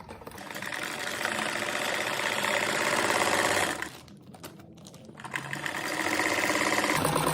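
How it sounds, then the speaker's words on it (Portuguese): A sewing machine stitches fabric for a simple cat-shaped door stop, its fast steady whirring running loud and close, pausing briefly in the middle before starting up again. "passar a máquina aqui"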